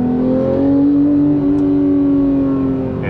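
A Porsche 991.2 GT3 with a manual gearbox accelerates hard, its engine note loud, close and steadily rising as it revs through the gear without any talk.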